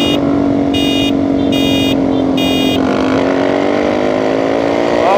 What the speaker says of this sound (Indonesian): Ini juga bacot banget motornya